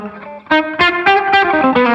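Electric guitar notes plucked one after another through a Carl Martin HeadRoom Mini digital spring reverb pedal with the reverb mix turned up, each note ringing into a washy tail, loud and close.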